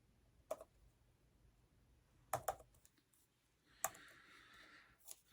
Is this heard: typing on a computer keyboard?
yes